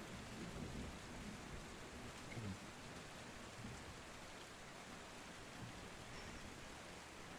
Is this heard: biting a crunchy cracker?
no